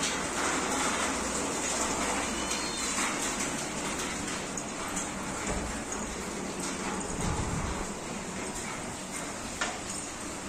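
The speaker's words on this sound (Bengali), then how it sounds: "ঝমঝম করে বৃষ্টি হচ্ছে" Heavy rain pours down outside a home beside a pond, a dense steady hiss of downpour that continues unbroken throughout.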